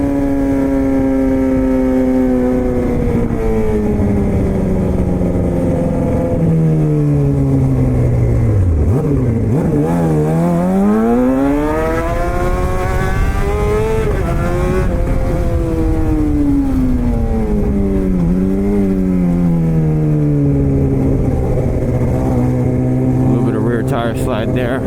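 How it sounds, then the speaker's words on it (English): Honda Civic Type R engine revving outdoors, a loud continuous drone that rises and falls in pitch through repeated revs, with voices talking over it. "It's a Type R Civic?"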